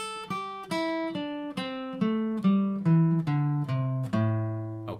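Lead guitar running up a scale note by note in an even, flat delivery, about ten plucked notes in a steady rhythm with no bends or accents, clear and close with no talking.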